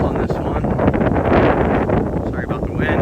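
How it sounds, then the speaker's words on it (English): Strong wind buffets the microphone with a loud, rumbling roar that runs throughout, with a voice faintly underneath. "Started getting a little bit windy here."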